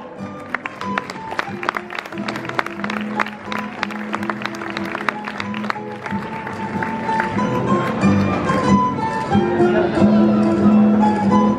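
Audience applause at a folklore festival in Madridejos welcomes a woman onto the stage, a dense sustained clapping with crowd noise that grows fuller and louder toward the end, while music plays underneath.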